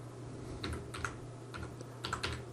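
Light tapping on a computer keyboard, a handful of quiet keystrokes in short uneven bursts against a low steady hum.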